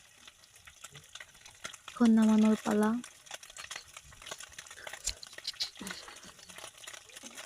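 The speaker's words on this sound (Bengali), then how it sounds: "আমার মাছ ভাজা প্রায় হয়ে আসছে" Fish fries in a pan in a village kitchen, giving a steady, close sizzle with bubbling oil and occasional scraping as pieces are moved. A brief tonal hum rises midway, and a person talks over the cooking.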